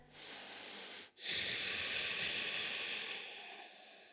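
Slow, deep breathing during a morning yoga session, a long airy exhale, a brief pause, then a second drawn-out breath that fades gently, close and alone.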